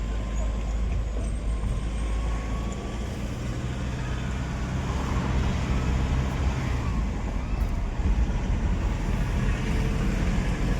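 A Toyota Innova out on a road trial after an engine overhaul rumbles with a steady low drone from inside the cabin, constant and fairly loud for the whole stretch, with faint traffic around.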